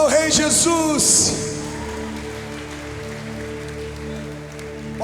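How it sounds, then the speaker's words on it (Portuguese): A congregation claps at a lively Sunday church service, with steady broadband applause continuing under a sustained musical tone after a few loud voices cry out at the start. "Aplauda ao Rei Jesus."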